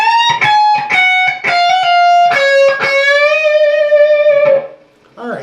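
A distorted electric guitar plays a lick, a quick run of picked notes followed by a long bent note that sustains and wavers before cutting off, loud and close with no voice.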